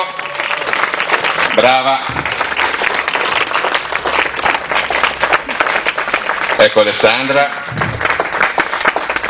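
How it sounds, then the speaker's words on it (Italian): Dense, steady applause from a theater audience at an Italian fashion show and stage performance, continuous throughout, with a host's voice speaking briefly over the clapping twice. "Un applauso."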